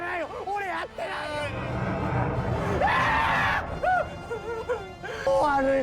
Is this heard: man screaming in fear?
yes